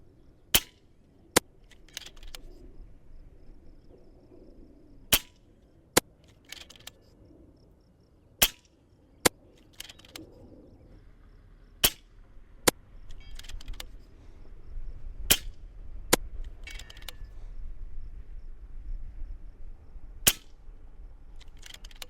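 An FX DRS Pro airgun fired repeatedly, over a dozen sharp, clean cracks spaced irregularly a second or more apart, with faint handling sounds between shots.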